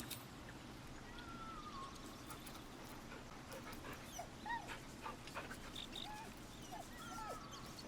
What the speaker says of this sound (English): I was just looking for the dog.